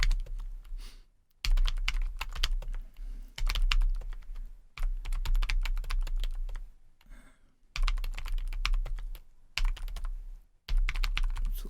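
Computer keyboard typing while entering data into an Excel spreadsheet: close, rapid bursts of key clicks in runs of one to two seconds, separated by short silent pauses, with no talking.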